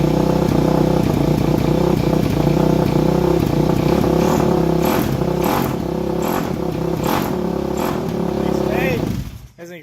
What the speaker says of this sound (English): Hey, there's an exhaust leak.